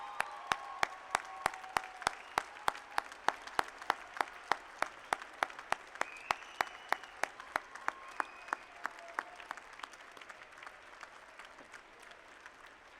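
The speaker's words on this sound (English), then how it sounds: "I'd like the applause to go the other way." Rhythmic clapping from the audience at a university convocation ceremony, sharp claps falling in a steady beat over a soft background of broader applause, fairly distant and gradually easing toward the end.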